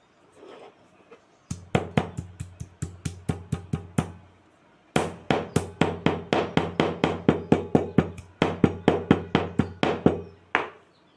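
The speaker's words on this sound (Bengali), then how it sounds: "এই যে একটু লঙ্কা বেটে নিলাম আমি" Chillies are pounded into paste with a river stone, giving steady rhythmic knocks, about two per second, in two long runs separated by a short pause, close and crisp.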